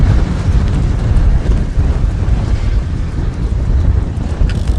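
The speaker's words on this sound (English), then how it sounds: "man, it's windy" Strong wind roars and buffets the microphone, a continuous low rumbling gust with no other sounds.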